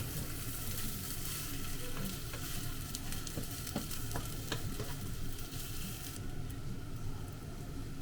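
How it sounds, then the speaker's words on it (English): Osaka-style okonomiyaki fries over yakisoba and egg on a hot griddle, giving a dense, steady sizzle with scattered pops and a few soft scraping clicks as it is flipped, with no talk. "flip the okonomiyaki on top of yakisoba"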